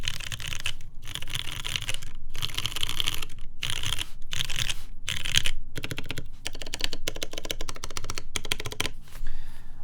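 Rapid clacky typing on a custom Illustrious70 mechanical keyboard, dense bursts of close keystrokes separated by short pauses, with no talking.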